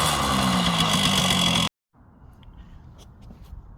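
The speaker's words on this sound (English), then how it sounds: "Kawasaki KD80, just kick it." A Kawasaki KD80 motorcycle engine runs loud and steady for under two seconds after a kick-start, then cuts off abruptly, leaving quieter background noise with faint scattered clicks.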